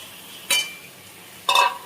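Black cumin and dried chilli tempering in a pan, with yogurt and tomato added, gives a faint, steady low sizzle broken by two brief, louder scraping stirs about a second apart.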